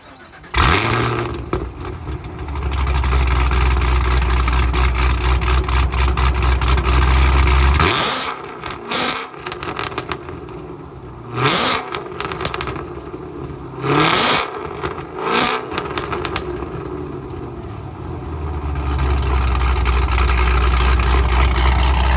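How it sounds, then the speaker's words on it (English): A car's aftermarket exhaust with black tips rumbles at a deep idle, then barks through several sharp revs in a row before settling back into a low, steady burble, close and loud. "This exhaust is rad. It sounds way good."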